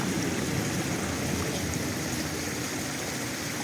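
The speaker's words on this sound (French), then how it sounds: "à l'entrée du gouffre, il y a une petite cascade comme ça." A small waterfall at the entrance of a chasm in the Dordogne, rushing and splashing in a dense, steady roar close by, with no voices over it.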